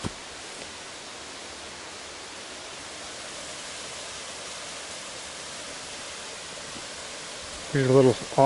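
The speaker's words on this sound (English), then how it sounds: "and a waterfall." A small waterfall on the Moosehorn Trail in Fundy National Park rushes as a steady, even wash of water noise, with a voice briefly speaking at the very end.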